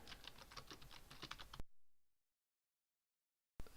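Rapid, close computer keyboard typing while a blog post is written, a quick steady patter of keystrokes for about a second and a half before cutting off to silence, then resuming briefly.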